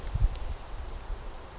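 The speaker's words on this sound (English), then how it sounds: "on this windy day, oddly windy" Wind blows outdoors on a gusty day, a soft low rumbling buffet against the microphone with one brief stronger gust at the start, then steady faint turbulence.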